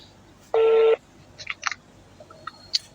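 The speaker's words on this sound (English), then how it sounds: "Okay, dialing her number." Phone dialing tones play over a speakerphone: one longer tone followed by several short, faint beeps and clicks against a quiet background.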